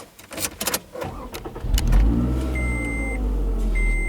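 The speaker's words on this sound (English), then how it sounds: "So yeah, let's take it for a drive and see how it does." A 2013 Scion tC setting off on a drive: door and cabin clunks, then the engine starting and settling into a steady close idle hum with a faint warning chime.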